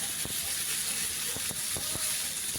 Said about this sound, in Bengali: লাউ আর আলুগুলো খুব ভালো করে কষিয়ে নেব